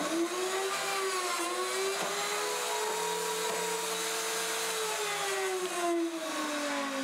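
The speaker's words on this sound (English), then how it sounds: "I can just clamp my 3/4 stock in there, turn the machine on and go through those functions" A Castle 110 pocket machine cutting a pocket into 3/4-inch white oak stock, a steady high motor whir with a slowly shifting pitch that runs without a break, close and fairly loud, with no voices.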